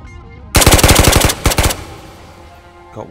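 MP5 submachine gun fire in the VR shooter Ghosts of Tabor inside a missile silo: a loud, rapid burst of about ten shots, a short pause, then a second quick burst of four rounds, followed by a fading echo.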